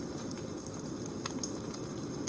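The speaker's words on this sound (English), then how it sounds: "it's gonna create the sound of that roaring fire with a crackling log" A Trebisky Fireplace Crackler Gen2, an electronic device simulating a crackling log fire, gives off a soft steady hiss with scattered faint pops and crackles.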